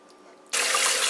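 Tap water gushes suddenly about halfway through, a loud, steady broadband rush as chicken livers are rinsed under it, following a quieter stretch of faint trickling.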